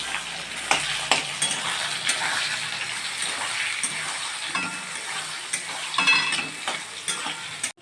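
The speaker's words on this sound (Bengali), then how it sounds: "পেঁয়াজ দিয়েছি, এখানে বেগুনগুলো দিয়ে দিচ্ছি, টমেটোটা দিচ্ছি" Eggplant, tomato and onion fry in oil in a pan as the base of a fish curry, with a steady close sizzle and occasional stirring clatter, moderately loud.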